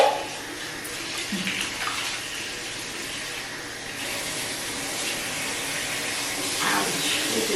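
Hot tap water runs steadily into a bathroom sink while a face is rinsed, a loud continuous splashing stream filling the whole clip.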